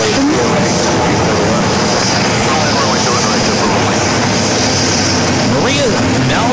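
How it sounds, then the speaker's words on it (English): JetBlue Airbus A220 jet engines starting up at JFK airport, a loud, dense, constant roar and whine of engine noise with faint shifting tones, heard continuously throughout. "that JetBlue A220 starting up, along with the Delta connection"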